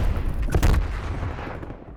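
Gunfire in the shooter game Call of Duty Black Ops Cold War, a quick cluster of loud, close shots around the middle of the moment, trailing off into fading reverberation with no speech.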